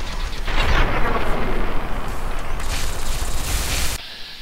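Heavy gunfire aimed at a sentry bot in the game Fallout 3, a dense continuous barrage of booming shots and explosive rumble that stops sharply near the end.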